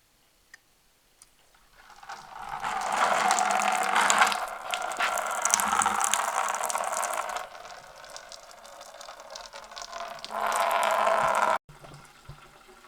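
Coolant drains from a Cummins radiator after the drain is opened, building into a steady splashing, gurgling stream that rises and falls, with faint clicking and mechanical ticks and a quiet stretch before it starts.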